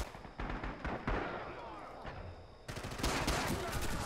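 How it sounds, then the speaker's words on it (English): Knee mortar and other gunfire in the World War II shooter Rising Storm, a dense run of overlapping cracks and distant thuds that grows louder and busier partway through. "I think there's a knee mortar going off right over that ridge"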